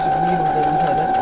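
A domestic sewing machine stitches a mystery quilt block in a steady, continuous mechanical whir with a held motor hum, close and fairly loud, while a person talks over it.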